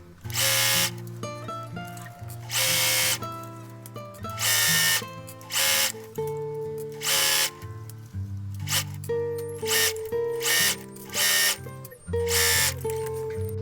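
A sewing machine stitching a dress seam runs in bursts of loud, steady whirring with short pauses between them, close and alone.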